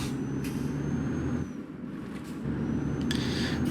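A truck in Euro Truck Simulator 2 leaving the garage, a steady low engine rumble with hissing air-brake bursts near the start and end and a brief quieter dip in the middle.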